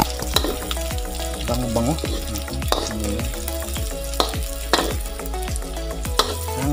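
Pork and pinakbet vegetables being stirred in a hot wok, with steady sizzling and frying under repeated scraping, clattering strokes of a utensil against the metal; a voice speaks briefly near the end.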